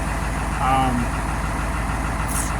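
A White 4-175 farm tractor's engine idles steadily nearby, a continuous low, even rumble that holds the same level throughout.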